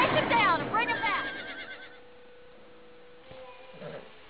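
Horses neighing in the video game Red Dead Redemption, with a loud, quavering whinny up front that fades into a steady hum, followed by fainter snorts and a brief second whinny near the end.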